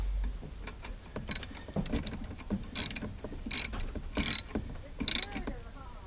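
A ratchet cinches down a bolt on a Champion 3500 watt inverter generator, with bursts of quick close clicking among small metallic handling noises.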